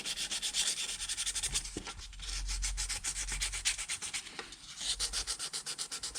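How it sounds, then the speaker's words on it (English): Light hand sanding of Jaguar MK2 number plates, a rhythmic back-and-forth rasping of abrasive strokes, close and fairly quiet, with a short pause midway before the strokes resume. "it's time to give these guys a light sanding and see how many we can save"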